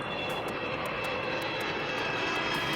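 Fixed-wing airplane engine roaring steadily and loud throughout, a continuous broadband drone with a faint high whine, no voices.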